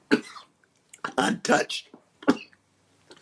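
A man coughs a few times in short, sharp bursts between stretches of speech, close and fairly loud during a studio interview.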